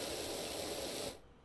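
A pressure washer in PowerWash Simulator gives a steady hissing spray for about a second, loud and close, then cuts off abruptly.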